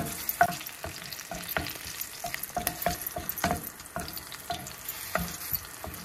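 Green chillies frying in about three spoons of hot oil in a pan, a close, busy crackle of sizzling with irregular sharp pops and spatters throughout, stirred now and then.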